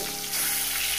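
Katla fish pieces frying in hot oil in a pan, a steady broadband sizzle that grows louder after the first third of a second and holds close and continuous.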